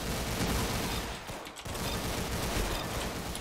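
Continuous gunfire from a Roblox Arsenal match, a dense, loud stream of rapid shots and bursts that fills the whole stretch with only a brief dip near the middle.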